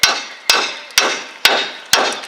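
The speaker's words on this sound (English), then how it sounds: "Now I'll grab my hammer, hit the bottom of it" A hammer strikes the bottom of a lower ball joint on a Chevy S-10, knocking it free of its ground-down factory rivets: five loud, sharp metallic blows at a steady half-second rhythm, each ringing briefly, close and alone.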